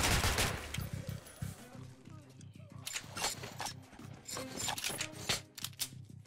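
Rapid gunfire in Metro: Last Light comes in quick clustered bursts and clicks at moderate loudness, mixed with someone talking over the shooting.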